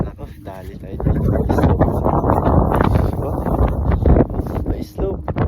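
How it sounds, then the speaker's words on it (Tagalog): Strong wind gusts buffet the microphone outdoors beside a truck and trailer on a slope, a loud continuous roaring rumble with rustling, while someone talks over it. "Uy, lakas ang hangin."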